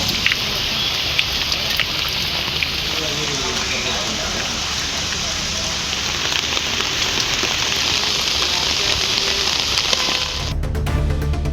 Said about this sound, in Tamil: தருமபுரி மாவட்டம் அரூர் மற்றும் சுற்றுப்புற கிராமங்களில் மிதமான மழை பெய்தது.